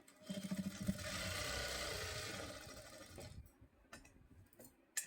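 A sewing machine runs steadily for about three seconds, stitching back darts on a blouse, with a quick ticking start. It then falls quiet, leaving only faint clicks and handling noises.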